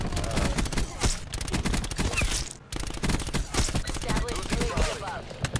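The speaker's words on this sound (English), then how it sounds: "I'm getting shot from somewhere." Gunfire and bursts of shots from Call of Duty Black Ops 4 multiplayer, dense and continuous at moderate loudness, with repeated sharp impacts throughout and a brief dip midway.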